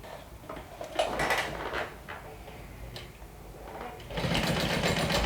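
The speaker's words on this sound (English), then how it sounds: "you're going to stitch along that straight edge" A sewing machine stitches along a folded fabric dart in short, close, fairly quiet runs of rapid ticking, with pauses between bursts and faint handling noise.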